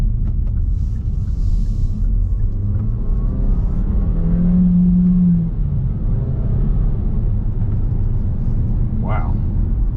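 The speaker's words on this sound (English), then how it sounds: "gonna go for a little drive in the Seltos to see what I think" A 2021 Kia Seltos GT Line driven and accelerating, its engine a steady low rumble and road drone heard from inside the cabin, with a brief tonal hum partway through and someone speaking over it.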